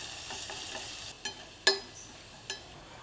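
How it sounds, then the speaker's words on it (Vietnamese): Minced shallot, garlic and ginger fry in hot cooking oil, a soft steady sizzle close by, broken by a few sharp clicks and taps of a utensil stirring the pan. "Mình sẽ phi vàng thơm."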